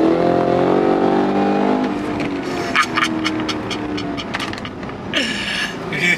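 Cadillac CT5-V Blackwing accelerating hard on a road past cornfields, a loud close engine roar whose pitch climbs through the gears, dropping back with a gear change, while passengers react briefly in the cabin.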